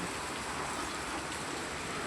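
Gentle rain falls steadily, heard from a balcony as an even, soft hiss with no break, fairly quiet and continuous throughout.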